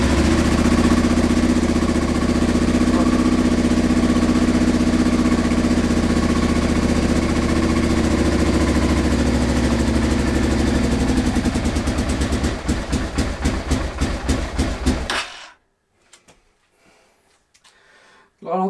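A Honda Transalp motorcycle engine idles loudly and steadily after its first start, then stumbles into uneven pulses and cuts out, leaving near silence with faint voices.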